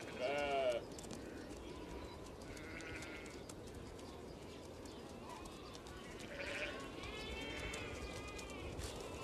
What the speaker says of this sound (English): Domestic sheep.